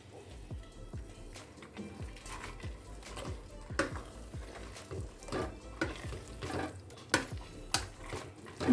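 Bread halwa with fried cashews being stirred in a pan, a steady run of soft scraping and clinking strokes with a few sharper knocks near the end, close and moderately loud.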